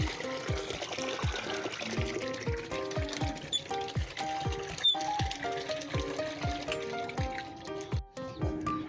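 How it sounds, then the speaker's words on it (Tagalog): Rhythmic squeaking strokes of a hand pump with water gushing and splashing into a container for piglet feed, repeating steadily at close range. "dito nga pala kumukuha ng tubig sa poso"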